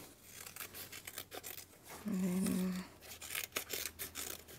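Giant scissors snip through scrapbooking paper in several quick, close, crisp cuts and rustles, followed by a brief loud humming tone in the middle; a voice murmurs once.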